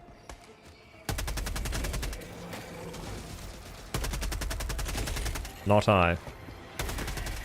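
Automatic weapon fire in Helldivers 2, several loud rapid bursts separated by pauses, with a short spoken remark and a brief tonal game sound among them.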